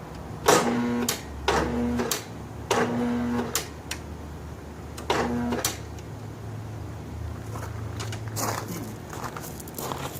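A Snapper rear-engine riding mower that had sat unused for eight years is cranked on a boosted battery charger, with several short whirring starter bursts separated by pauses and faint background clatter.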